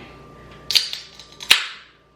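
A can of Blake's Hard Cider Co. hard cider is cracked open up close: two sharp snapping pops, each with a short hiss, in an otherwise quiet room.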